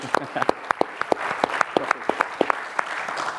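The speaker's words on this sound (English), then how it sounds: "let's give him a round of applause." Scattered applause from an audience at a live podcast taping, a loose run of sharp claps at an uneven pace, steady and moderately loud throughout.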